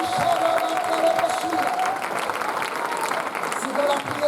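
Dense, steady applause from a church conference audience at a francophone Christian gathering fills the whole stretch, with a faint sustained musical tone running underneath.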